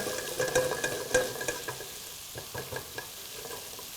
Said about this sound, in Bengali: চপ গার্লিকটা পুরোপুরি ফ্রাই হবে, নাইসলি ফ্রাই।